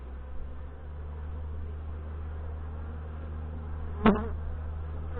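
Honey bees buzz steadily in an open hive, a continuous close drone with one brief louder burst near the end.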